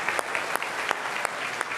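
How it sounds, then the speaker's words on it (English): An audience applauds after a resilience keynote talk, a steady patter of many hands clapping with sharp individual claps standing out, moderately distant and without speech. "Round of applause, everybody"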